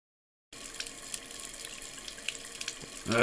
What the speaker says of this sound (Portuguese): Tem que fechar a torneira quando não estivermos usando-a.